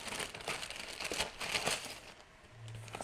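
A paper instruction manual for an LED tube light conversion kit being handled, with crisp crinkling and rustling close up in short bursts, followed by a brief low hum near the end.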